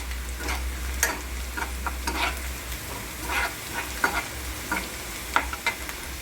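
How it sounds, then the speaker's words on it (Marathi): A steel spoon stirs radish leaf vegetable in a pan, with light scraping strokes at an uneven pace over a low, steady sizzle, and no talking. "जर स्टीलच्या स्पून वगैरे असेल ना तर त्याने पटकन आपली भाजी अशी आपल्याला हलवता येते"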